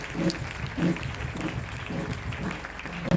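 A church congregation claps together in praise of the Lord during a Sunday service, a steady rhythmic beat of crowd handclaps at a moderate distance, mixed with faint voices.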